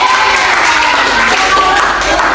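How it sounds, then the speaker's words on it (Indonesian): Students in a classroom break into applause, a loud, continuous burst of clapping with some crowd noise throughout. "Tepuk tangan dulu untuk kita semua"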